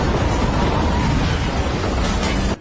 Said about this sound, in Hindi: भयानक धमाके के साथ पूरी इमारत ढह जाती है।